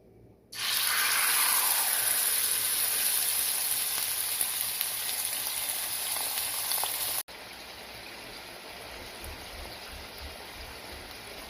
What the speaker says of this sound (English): this is the chicken, and we're gonna go ahead and start the frying process